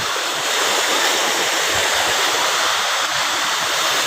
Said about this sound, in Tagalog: Lakas ng tubig ng tunnel